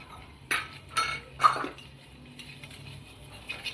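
A spoon stirring a kharvas mixture of milk, sugar and cardamom in a metal pot, three sharp clinks against the rim in quick succession followed by softer scraping, close and alone without speech.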